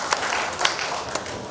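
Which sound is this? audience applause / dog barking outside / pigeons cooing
audience applause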